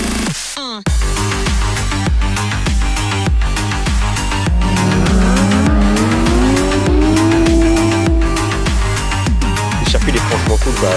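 Drift cars sliding sideways on a race circuit during a drift meet, tires squealing hard over roaring, revving engines, one car's shriek bending in pitch as it holds the slide, loud and continuous from start to finish.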